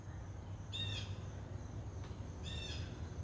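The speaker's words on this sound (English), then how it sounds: "I hear a blue jay fussing." A blue jay gives two harsh, fussing calls about a second and a half apart, moderately distant over a quiet outdoor garden background hum.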